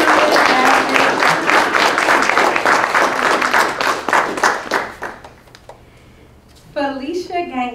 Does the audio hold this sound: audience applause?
yes